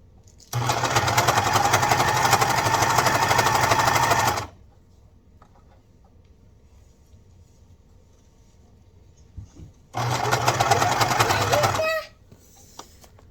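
A sewing machine stitches a shirt hem in two bursts close by, a steady whirring run of about four seconds, a pause with faint handling noises, then a shorter two-second run.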